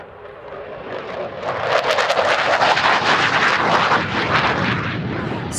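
Russian Sukhoi Su-27 fighter jets roaring overhead at an air show above Hradec Králové, a loud, swelling jet engine rumble and whoosh that builds and stays strong, with crowd noise underneath.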